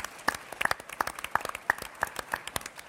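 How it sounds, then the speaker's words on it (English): Scattered, fairly quiet clapping from a conference audience at a social media event, individual claps distinct and irregular rather than a dense roar, continuing for a few seconds. "Please, round of applause."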